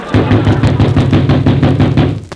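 Rapid, heavy knocking on a door, a loud run of evenly spaced thuds close by, continuing steadily without any talk.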